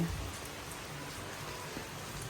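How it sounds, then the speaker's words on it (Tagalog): Rain falls outdoors as a soft, steady hiss of drops, faint and even throughout, with no voices. "At umuulan na naman po. Tamang-tama din lang ang pagbuhos po ng ulan."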